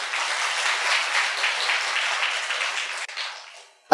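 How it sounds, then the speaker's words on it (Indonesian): A stand-up comedy audience at a gallery venue claps together in dense, steady applause that fills the room, then tapers off and fades out near the end. "Tepuk tangan buat kita semua dulu."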